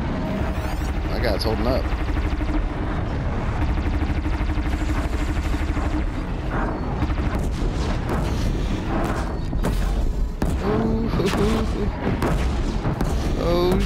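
Thunderjaw machines battling in Horizon Zero Dawn, with disc launchers firing in a dense barrage of booms, blasts and rattling impacts throughout, loud and continuous, while someone comments over the combat.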